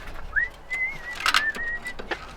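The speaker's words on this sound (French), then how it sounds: "je vais siffler, je siffle toujours quand je viens" A person whistles to call an animal: one sustained, slightly wavering whistle held for over a second, with a few sharp clicks around it, close and fairly loud.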